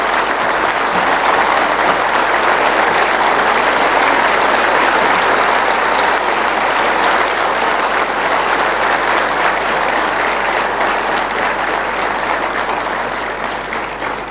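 A large audience claps steadily at a Gujarati folk literature (loksahitya) event, a dense, loud wash of applause that holds evenly without a break and fades slightly at the very end.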